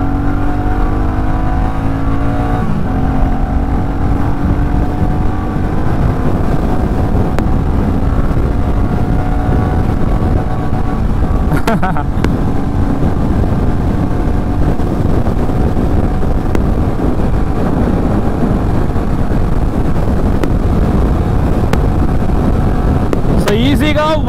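A 2025 Royal Enfield Bullet 350 motorcycle is ridden at speed, its engine producing a steady loud drone blended with heavy wind rush from start to finish.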